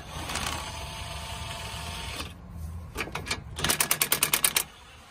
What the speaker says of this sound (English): we're gonna take it out using the impact driver